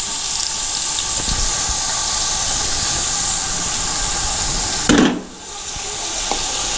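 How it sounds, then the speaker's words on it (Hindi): Sliced onions, about a kilogram cut into long strips, drop into hot cooking oil in a pot, giving a steady loud sizzle and hiss that bursts briefly, then dips and settles back into continuous frying. "कुकिंग ऑयल के बाद अब मैं इसमें ऐड करूंगा प्याज को।"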